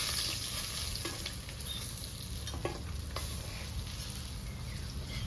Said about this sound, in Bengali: কড়া করে ভেজে দিই মাছগুলো